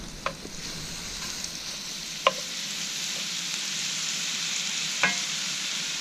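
A skillet sizzles steadily over a camp stove while food fries in oil, and a utensil scrapes and taps the pan occasionally in a few sharp clicks above the constant hiss.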